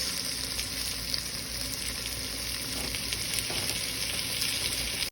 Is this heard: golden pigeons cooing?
no